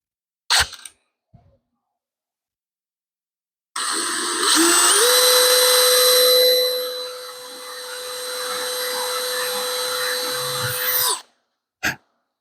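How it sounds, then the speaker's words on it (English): A few short clicks, then a power drill whirs steadily for several seconds drilling 1/8-inch rivet holes while installing a boat rub rail, its pitch dropping as it bites into material, before stopping with a final click. "I'll grab the drill and drill a couple little 1/8" rivet holes."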